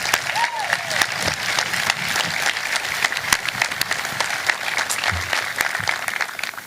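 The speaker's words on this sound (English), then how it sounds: "Please join me in a round of applause for the efforts of those people who make tonight possible." A high school graduation audience applauds the band and choir, a large crowd clapping steadily with sharp individual claps standing out, a few voices mixed in.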